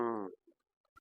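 A Teddy king pigeon gives a single short, throaty coo up close, followed by a few faint clicks and rustles in an otherwise quiet space.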